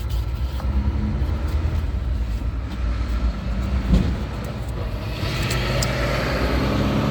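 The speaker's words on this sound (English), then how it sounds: "I'm gonna start the vehicle, check for leaks." A supercharged V8 in a 2012 Range Rover idles with a steady, close, low rumble, swelling slightly in the final seconds.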